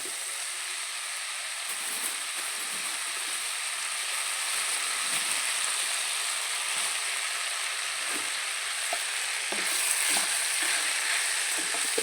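Drumstick leaves with chillies stir-frying in a pan, a continuous crackling sizzle with occasional soft scraping as the mix is stirred.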